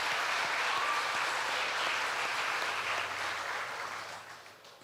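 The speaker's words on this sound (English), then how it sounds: "Let's give all these visiting royalty another round of applause." An audience at a Choctaw Nation princess pageant applauds visiting pageant royalty, a steady wash of clapping from many hands that holds evenly, then tapers off near the end.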